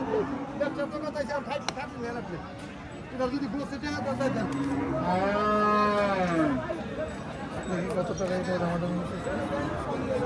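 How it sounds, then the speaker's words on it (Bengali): A large crossbred cow lows at a busy cattle market, with several drawn-out moans rising and falling amid a murmur of voices and crowd chatter. "এই সেই বিশাল একটি ক্রস গরু যেটা হরজতপুর গরুর হাটে বেচা কিনা চলতেছে"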